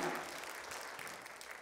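A church congregation applauds, a dense, even wash of clapping that fades slightly over a short stretch, moderately distant and without voices.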